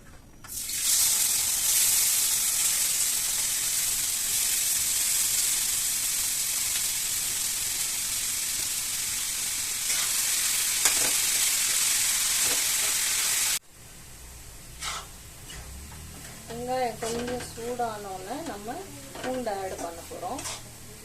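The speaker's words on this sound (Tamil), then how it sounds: "எண்ணெய் சூடானோன்னு சாப் பண்ணி வச்சுருக்கேன் வெங்காயத்தை போட போகிறோம்" Chopped onions dropped into hot oil for a dried-shrimp podimas, a loud steady sizzle and hiss that runs for several seconds, then cuts to quieter stirring under a woman's speech.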